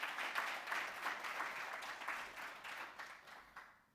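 An audience applauds the Vice Chancellor at an inaugural professorial address, brisk clapping that runs throughout and fades toward the end.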